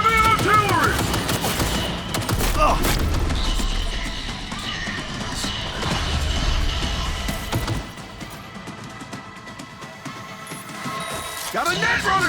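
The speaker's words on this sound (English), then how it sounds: "Heavy artillery!" Heavy artillery gunfire erupts in the Cyberpunk 2077 video game, loud rattling volleys and crashing impacts that ease off near the end, with a voice talking over the battle.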